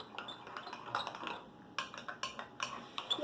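Homemade slime being stirred in a bowl with a utensil, producing soft scraping and a series of light clinks and taps against the bowl, irregular and close, growing sharper toward the end.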